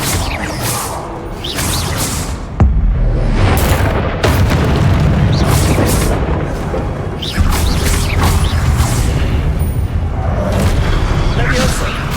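Spell blasts and explosions in Hogwarts Legacy combat crash and boom one after another over continuous loud game noise, while a voice calls out spell names.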